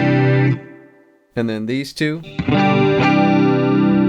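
Electric guitar played through a Screamin' Demon distortion pedal, sustained overdriven chords ringing loudly at the start and end, with a brief spoken phrase in the middle.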